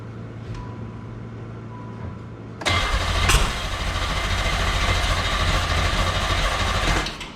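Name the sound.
Fiero GT 2.8L engine cranking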